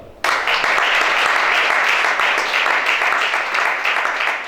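A church congregation at a prophetic worship service bursts into sustained, dense applause that starts abruptly and holds steady at full loudness.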